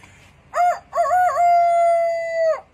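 A person's voice imitates a rooster crowing, giving two short rising calls and then one long drawn-out cock-a-doodle-doo held for over a second, loud and close.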